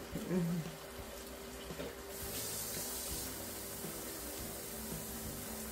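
Tap water running steadily into a San Marzano tomato can, about half a can's worth, while cooking pot roast and spaghetti in a home kitchen; a continuous hiss of flow with faint clatter.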